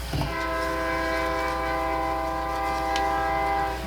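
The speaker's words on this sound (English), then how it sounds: "Here comes the train." A train passes with its horn sounding, a long sustained blast held steady over rumbling wheels and rail noise, close and loud.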